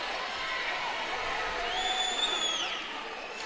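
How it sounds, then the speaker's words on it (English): Boxing crowd at a Richard Rivera versus Devaun Lee fight, a continuous dense roar of cheering and whooping from a large arena audience, with a few shrill whistles rising above it. "this crowd that's cheering for him here tonight"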